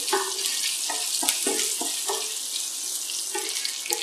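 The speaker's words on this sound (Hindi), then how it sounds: "अब हम इसमें हरी प्याज मिक्स कर देंगे और इसको थोड़ा येलो फ्राई हो जाने देंगे।" Green onions frying in hot oil in a kadai for paneer gravy, a steady close bed of hissing sizzle with small crackles and faint stirring taps throughout, no voices.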